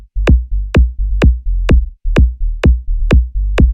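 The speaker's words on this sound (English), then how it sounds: "And there, you've got a much nicer sub bass." A synth sub bass with its filter cutoff adjusted pulses in steady, evenly spaced notes, each opening with a bright click and settling into a deep, round low tone, loud and alone for the whole stretch.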